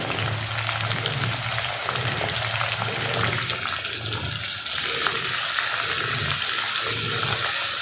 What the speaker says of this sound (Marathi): आता हे टोमॅटो शिजेपर्यंत ह्याला परतून घ्यायचे